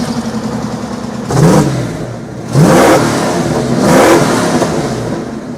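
A car engine revs hard three times through a throaty exhaust, each rev rising sharply then dropping back to a rumbling idle between them.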